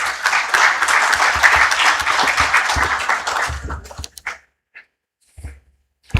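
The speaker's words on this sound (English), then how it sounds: "Let us clap our hands" A hall audience at a COMESA Federation of Women in Business gathering claps hands in a dense, steady burst of applause that stops abruptly, leaving a few faint scattered sounds afterward.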